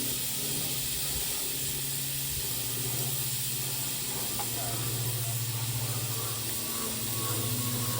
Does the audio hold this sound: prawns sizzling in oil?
yes